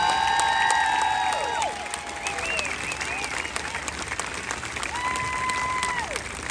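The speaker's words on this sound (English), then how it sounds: "Let's give a big round of applause for Mr. Cal Ripken Jr." Audience applause welcoming Cal Ripken Jr., baseball Hall of Famer, at a baseball complex event, a dense, sustained round of clapping from a large crowd with some cheering, steady throughout.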